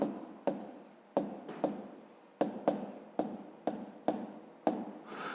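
A pen writes by hand on paper in a math exercise book, about ten short scratchy strokes, each sharp at the start and tapering off, close and alone.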